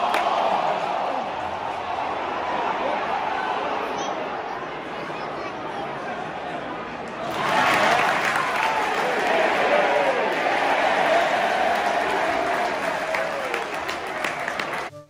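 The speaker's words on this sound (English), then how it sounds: "be prepared to hear the crowd cheer and roar with excitement" Australian rules football crowd in a stadium, a broad wash of cheering and roaring that swells louder halfway through, distant and sustained with no single voice standing out.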